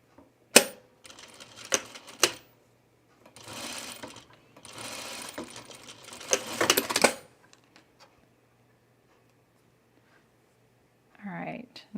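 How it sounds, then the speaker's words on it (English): A sewing machine re-stitches the binding on a 1930s-style blouse in short rattling bursts with pauses between them, fairly close, followed by a brief voice near the end. "now we just need to re-stitch this binding without catching the bodice"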